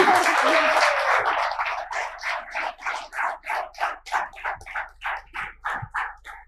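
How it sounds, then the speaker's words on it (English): An audience at a fireside chat event claps in a quick, even rhythm, with distinct beats repeating steadily for several seconds at a moderate, slightly distant level. "he needs a big applause"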